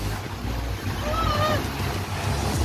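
Rough offshore sea around a fishing boat, with a steady broadband wash of waves and wind buffeting the microphone throughout, and a voice faintly in the background.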